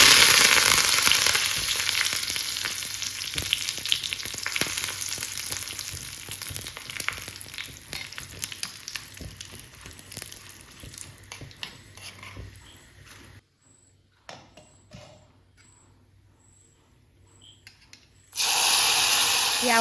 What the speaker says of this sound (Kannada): ಕರಿಬೇವಿನ ಸೊಪ್ಪು ಹಾಗೆ ಒಂದೆರಡು ಒಣಮೆಣಸನ್ನು ಹಾಕ್ಕೊಂಡು ಒಗ್ಗರಣೆಯನ್ನು ಮಾಡಿಕೊಂಡು ಮಾಡಿರುವಂತಹ ಸಾಂಬಾರಿಗೆ ಹಾಕ್ಕೊಳ್ತಾ ಇದ್ದೇನೆ